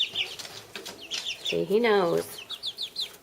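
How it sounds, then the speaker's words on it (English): Several four-week-old chicks cheep and cluck close by in a quick, scattered series indoors, while a person speaks briefly over them. "So those are the chickies."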